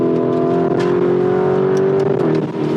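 Lamborghini Urus SUV engine revving hard on a test drive, a loud, close, sustained roar that holds steady then dips slightly near the end, with no talking.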